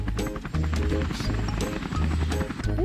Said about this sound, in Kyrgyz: Вертолет учуп баратат.